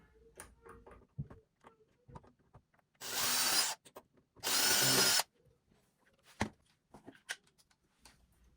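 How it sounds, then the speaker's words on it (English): A cordless power drill bores pilot holes into a wooden cabinet drawer to mount a soft-close damper. Two loud whirring bursts of about a second each, separated by a short pause, among quiet handling clicks and taps. "We're going to drill our pilot holes here."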